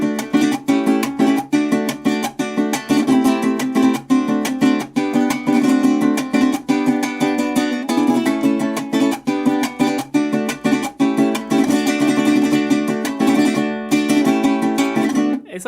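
Lively Venezuelan parranda music with dense, driving percussion and strummed strings, played continuously and loud, with no one talking.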